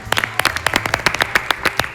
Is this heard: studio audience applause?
yes